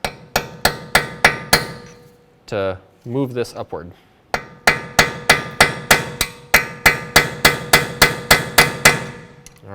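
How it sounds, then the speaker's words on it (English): A hammer taps a punch against a wheel hub nut on a 2005–2016 Toyota RAV4, giving sharp metallic strikes in quick, steady bursts with a pause where a voice briefly speaks. "we're going to use is a punch and a hammer. And we're just going to tap on the inside of this"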